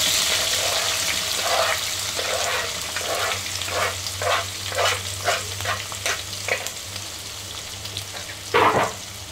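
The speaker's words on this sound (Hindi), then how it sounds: "तीन मीडियम साइज कटी हुई प्याज डाल देंगे।" Chopped onions and curry leaves fry in oil in a pan over a slow flame for mutton kalya, giving a steady close sizzle broken by repeated scraping stirs and one louder stir near the end, with no talking.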